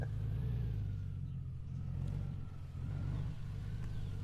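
A Honda Goldwing DCT motorcycle idles and rolls through slow tight turns, its engine a low steady rumble with small throttle swells, heard from close by with no talking.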